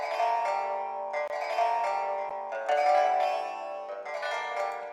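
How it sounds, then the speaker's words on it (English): Plucked pipa, a Chinese lute from a Kong Audio virtual instrument, plays a continuous dark melodic loop with rapid tremolo-like notes, steady and fairly loud throughout, with no voices. "It's called a pipa. It's a Chinese lute."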